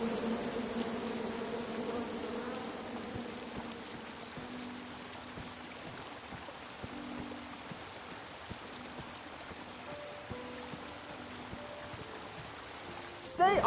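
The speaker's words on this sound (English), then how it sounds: "Come at me, bees!" Bees buzzing in the King's Quest video game, a soft insect drone under a busy ambient bed with occasional speech.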